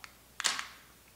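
Single-lens reflex camera mirror flipping up for a long exposure shot: one crisp mechanical clack with a short rattling tail, close and fairly quiet against a still room.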